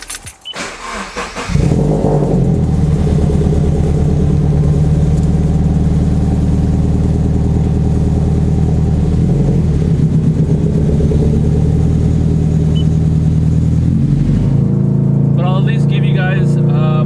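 A 2016 Scion FR-S with a Grimmspeed intake and its silencer removed starts up and settles into a loud, steady idle that runs close and continuous, with a voice talking briefly near the end.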